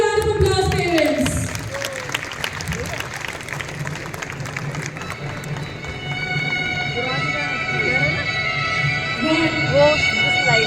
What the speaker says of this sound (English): Please give them a huge round of applause, parents.